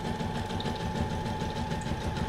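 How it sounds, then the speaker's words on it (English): A sewing machine stitches through paper, making a steady, continuous mechanical whirring hum with fast needle clatter, close and loud, with no talking. "this is one thing you can do with your sewing machine"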